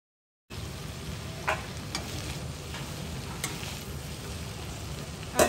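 Cauliflower sabzi with turmeric is stirred in a hot pan, a steady close sizzle running throughout with a few scraping spoon strokes, and no voices.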